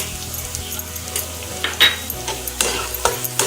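A spatula scrapes and knocks around a pan of fried onion mixed with turmeric and coriander-cumin powder for soybean bhurji, with repeated sharp scraping strokes over a soft sizzle, close and without speech.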